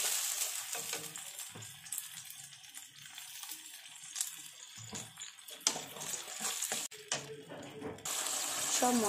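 Meat and spices lightly fried together in a pan: uneven sizzling with scraping, stirring and clinking of a utensil against the pan, fairly close and moderately loud, no talking.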